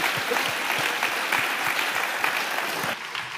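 Audience applause for four panelists at the close of a panel discussion on digital sovereignty in IT procurement, a steady dense clapping that holds evenly for over three seconds before thinning slightly at the end.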